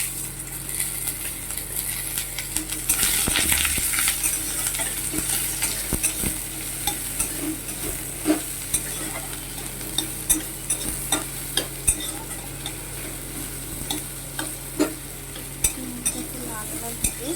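Onion and red chillies frying in a pan with greens for a Bengali shaak chorchori, a steady sizzle under repeated scraping and tapping of a spatula in an irregular stirring rhythm, close by, with no talk.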